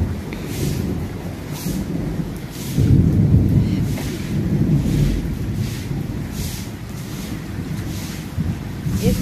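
Steady monsoon rain falls through a wet Sawan morning, a dense, even hiss with a low rumble beneath and gentle surges in strength, with no voices.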